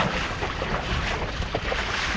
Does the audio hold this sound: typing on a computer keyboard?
no